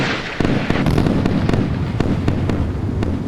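Radar-laid naval gunfire from warships in the Sea Power game, a dense barrage of rapid sharp bangs and crackling reports layered over a continuous low rumble.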